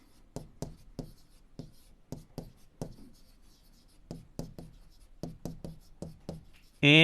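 Math answers written on a classroom board in a steady run of sharp, close tapping strokes with short pauses between them, ending in a sudden loud burst.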